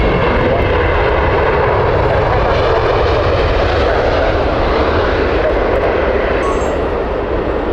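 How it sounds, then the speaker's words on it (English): A British Airways Boeing 777 airliner at Heathrow Airport roars steadily as it passes close by, a loud, continuous broadband engine rumble with no talk over it. "Another British Airways, this time 777."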